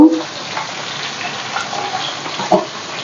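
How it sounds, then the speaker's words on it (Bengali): Potatoes frying in oil with salt and turmeric, a steady soft sizzle with faint stirring scrapes and a small clatter near the end, close and moderately quiet, no talk. "ভালো করে লাল লাল করে ভেজে নিচ্ছি আলুগুলো"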